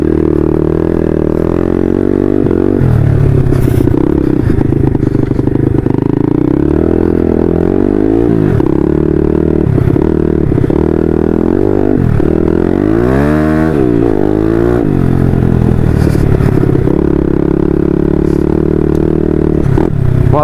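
A 150cc motorcycle rides along a rutted dirt track, its loud, close engine drone rising and falling with repeated revs and throttle changes, plus rattling clatter over the bumps, with no talking throughout.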